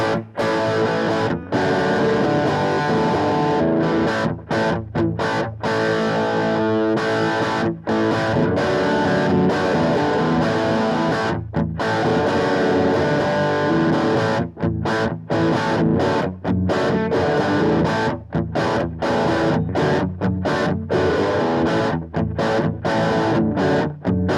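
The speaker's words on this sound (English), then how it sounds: "let's play it without that reverb once, just to hear the grit the amp on its own has" A thick, gritty overdriven electric guitar through an Orange Tiny Terror tube amp with no reverb plays continuously and loudly, with short rhythmic breaks between chords and no voices.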